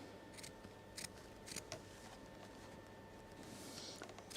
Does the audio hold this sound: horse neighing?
no